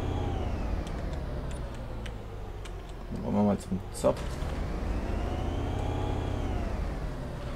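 A bus engine idles with a steady low hum and faint ticking in Bus Simulator 18, heard under people talking.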